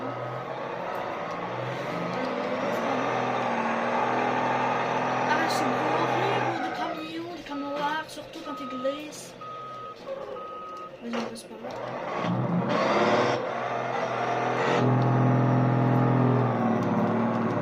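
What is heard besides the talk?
truck engine revving in a driving video game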